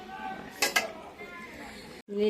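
A metal lid set onto a cooking pot while fish curry simmers, giving two quick bright clinks close by, followed by a soft clatter against faint kitchen background noise.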